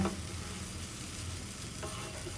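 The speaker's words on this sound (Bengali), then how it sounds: "মগজটা খুব ভালো করে ভেজে আবার আমি কিছুক্ষণ ডেকে দেব" Goat brain frying in a pan with fried onions, a steady close sizzle with faint stirring scrapes throughout, no voices.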